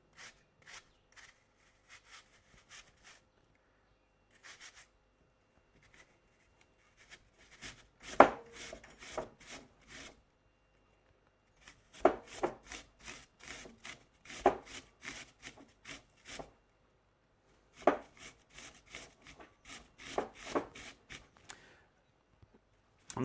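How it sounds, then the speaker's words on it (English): An apple rubbed against a grater for a raspberry and apple loaf, giving bursts of quick rasping strokes separated by pauses, close and fairly quiet with no talking. "So got my apple, got my grater"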